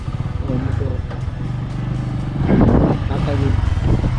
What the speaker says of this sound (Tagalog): Ayan oh. Motor.